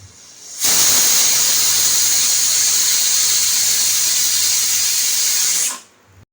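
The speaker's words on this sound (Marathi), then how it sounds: "इकडे कुकरला पण शिट्टी येत होती" A pressure cooker lets out a loud, steady hissing whistle of steam that lasts about five seconds, then cuts off.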